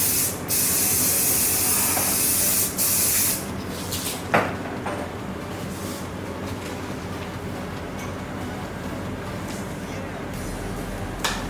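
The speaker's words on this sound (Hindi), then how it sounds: "थोड़ा सा शाइन स्प्रे" Shine spray from a can misted onto hair while sectioning the upper part for a headband braid, a steady loud hiss lasting about three seconds, then a quieter fainter spritz with a speaking voice in the background.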